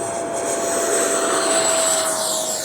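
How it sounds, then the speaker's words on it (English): An FMS F-86 80mm electric ducted-fan RC jet takes off down the runway, its loud, steady high-pitched whine roaring continuously and close throughout. "I just love how it takes off."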